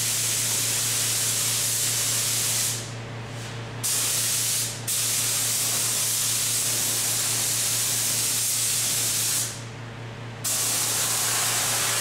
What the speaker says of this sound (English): this time, the spray gun will be going vertically instead of horizontal